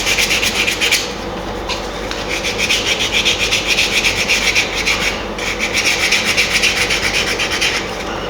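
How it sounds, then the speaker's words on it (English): Coarse sandpaper rubs steadily over the wooden body of a Japanese sanshin in circular strokes, a loud, close, continuous rasping with brief dips in intensity. "So I'm doing it in a kind of a circular motion because if I keep going the same way, this really coarse sandpaper leaves"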